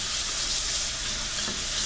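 Vegetables sautéing in a pan for a vegan Cuban dish, a loud, dense, continuous sizzle and hiss close up with no voices.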